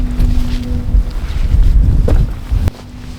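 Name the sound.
strong wind by a lake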